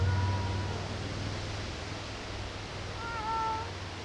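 A house cat meows twice, a short call at the start and a longer, rising-then-falling meow near the end, close and clear over steady background hiss and a low hum.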